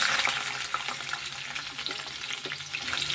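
Onions and green chillies fry in hot oil with a dense, even crackling sizzle that holds close and steady throughout, with no talking.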